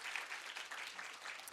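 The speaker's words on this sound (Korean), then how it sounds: "큰 박수 부탁드리겠습니다." Audience applause after a rope magic trick at a live event, a brief burst of many hands clapping, faint and somewhat distant.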